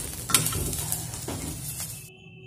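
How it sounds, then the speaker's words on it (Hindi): Green chillies roasting in a pan for pickle, with a soft sizzle and a few scraping stirs of a utensil against the pan, close up, ending abruptly. "मिर्च है वो भून चुका है। तो अभी मैं इसको थोड़ा सा और भूनूंगी"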